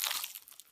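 A crunchy slice of pizza with dough, cheese and sauce is bitten into, giving a short, close crackling crunch that fades over under a second, with no talk.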